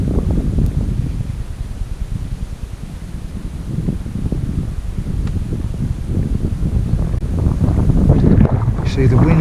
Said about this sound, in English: See, the wind's the main pain.